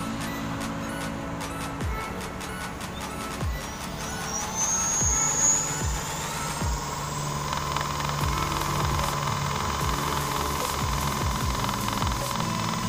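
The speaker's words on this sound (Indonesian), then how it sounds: "sekarang kita lihat pulser QS 2000 watt-nya kalau pas digas seperti apa" A Gekoo electric motorcycle's QS 2000 W hub motor revs up, its electric whine climbing steadily in pitch and holding over a continuous mechanical drone, fairly close and without speech.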